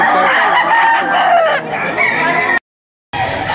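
A rooster crows loud and close, with clucking fowl around it, at a chicken auction in Lipa, Batangas; the crowing fills most of the stretch, cuts to a brief silence, then resumes.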